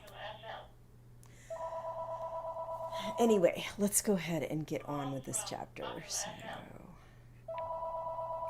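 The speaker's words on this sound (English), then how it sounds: "ignore my phone that's ringing all the freaking time with mostly spam" A phone rings with a repeated electronic tone in bursts, steady and moderately quiet, while someone talks over part of it.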